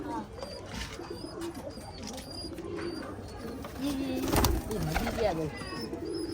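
Pigeons coo in low murmuring phrases near and far, mixed with thin chirps from other birds and background chatter of people talking nearby.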